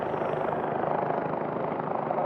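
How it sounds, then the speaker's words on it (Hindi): A helicopter passes in front at Kedarnath in the Himalayan pilgrimage valley, its steady rotor and engine roar loud and continuous with no voices. "सच में समा बन जाता है जब एक हेलीकॉप्टर सामने से गुजरता हुआ चला जाता है।"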